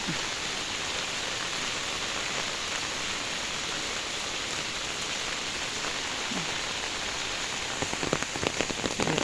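Steady rain falls on surfaces outdoors along a lane leading to a beach, a dense even patter throughout that grows slightly louder with sharper drops near the end; no voices.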